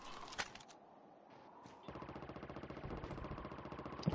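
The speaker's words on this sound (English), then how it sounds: "Gunshot." Rapid automatic gunfire from the mobile shooter Call of Duty Mobile, a steady fast stream of loud shots starting after a brief pause and running to the end, with no talk over it.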